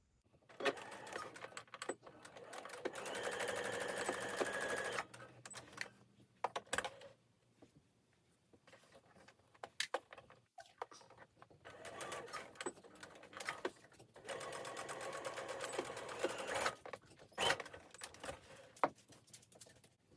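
A sewing machine stitches a cardigan seam in short runs: bursts of fast rhythmic whirring and clatter separated by quiet pauses and a few clicks, close by.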